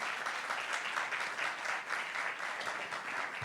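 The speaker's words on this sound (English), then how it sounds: "Let's give her a better clap" An audience claps together at a light-hearted gathering, a steady wash of applause with rhythmic swells, moderately loud and continuous.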